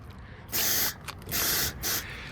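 Water sprayed onto the coils of a home air-conditioning unit during cleaning, three hissing bursts of spray, close and fairly loud, separated by short pauses.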